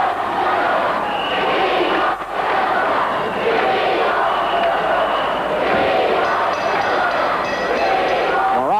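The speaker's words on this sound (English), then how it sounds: "you hear the chant from this capacity crowd" Capacity wrestling arena crowd roaring and chanting for Jimmy Snuka, a dense, continuous wall of loud massed voices filling the whole stretch.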